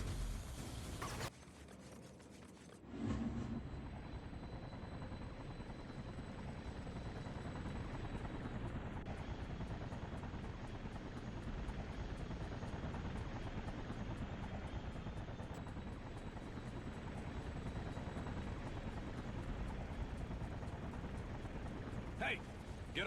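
A helicopter flies in the video game Infamous, its steady rotor drone running continuously beneath talk, with a sharp shift near the start and a few brief high tones over the engine.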